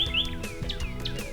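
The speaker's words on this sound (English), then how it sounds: "She hears a bird." A songbird chirps in quick, bright, high tweets, several short calls in a row, clear and close with no voices.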